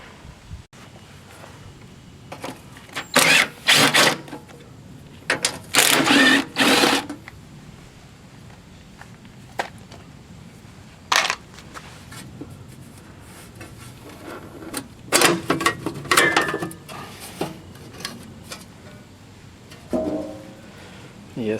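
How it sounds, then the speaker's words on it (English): A wrench or ratchet works bolts loose from the bottom plate of a Craftsman 24-inch snowblower engine, heard as several bursts of rapid, close ratcheting clatter separated by pauses, with a few metallic knocks in between. "So yeah, we got these 4 bolts we gotta take out."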